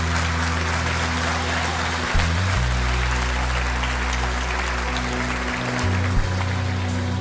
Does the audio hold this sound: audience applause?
yes